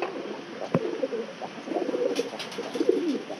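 A newly paired couple of clean, colourful pigeons coo in low, soft, rolling murmurs, with a brief sharp knock near the start and steady moderate cooing that continues throughout, no voices present.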